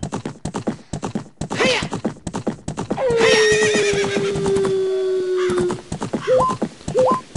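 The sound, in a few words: Epona the horse galloping in Zelda: Ocarina of Time video game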